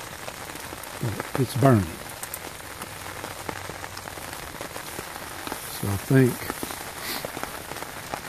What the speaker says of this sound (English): And in the rain, under my tarp, in my hammock, sitting.